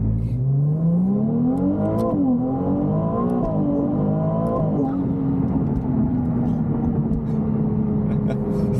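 Ferrari 296 GTB accelerating hard, its engine note climbing steadily in pitch through the gears with a brief shift dip, loud and continuous close inside the car.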